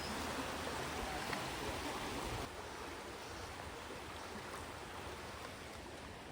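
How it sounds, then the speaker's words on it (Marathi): A small stream in the Sahyadri hills, swollen with plenty of rainwater, rushes in a steady, even wash of flowing water, quiet overall and dropping slightly in level partway through. "छोटंसंच वहाळ आहे, भरपूर पाणी आहे"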